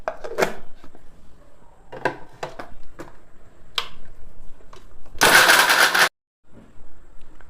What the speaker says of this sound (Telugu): ఇగో బెల్లం మెత్తగా మిక్సీ పట్టుకోవాలి.